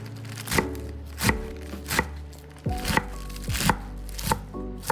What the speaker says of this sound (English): you're just going to literally slice this down until it's a little bit smaller